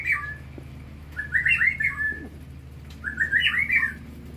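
An old white-rumped shama (murai batu) sings close by in two bright, rapid bursts of warbling, whistled phrases separated by brief pauses, over a low background hum.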